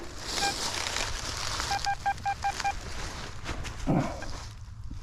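Short electronic beeping tones from a Minelab Manticore or XP Deus 2 metal detector ringing high: one beep, then a quick run of five or six evenly spaced beeps over a steady background hiss.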